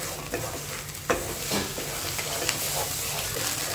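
Egg frying in a hot pan while being stirred with a spatula for a home dinner, a steady close sizzle broken by scraping strokes, with no talk.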